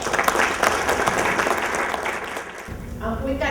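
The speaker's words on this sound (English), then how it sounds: "Please give a very warm round of applause for Lisa" Audience applause for a speaker just introduced at a small-business technology grants seminar: a dense burst of clapping from a seated crowd that fades after a couple of seconds, after which a voice begins talking.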